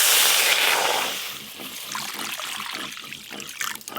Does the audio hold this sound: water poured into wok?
yes